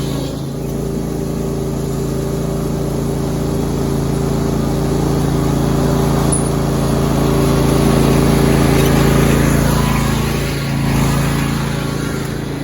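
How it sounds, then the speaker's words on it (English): A tractor packing down loose dirt at the end of an outdoor rink site, its engine running steadily and loudly throughout with a slight swell in the middle and no talk. "I'm gonna take my tractor and pack down some of that loose dirt that I put at the end."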